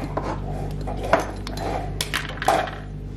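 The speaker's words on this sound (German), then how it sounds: "Porzellanschüssel mit Deckel." Porcelain dishware clinks and knocks a few times, with light taps and a bright ring as a lid is set against a porcelain bowl.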